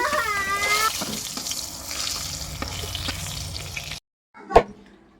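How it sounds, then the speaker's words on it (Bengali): Pointed gourd slices fry in oil over a wood-fired stove, a loud close sizzle with scraping stirs, followed by a short silence and a single sharp knock. "আর এদিকে হচ্ছে পটল ভাজা"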